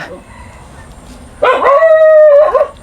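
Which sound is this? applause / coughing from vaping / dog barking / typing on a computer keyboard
dog barking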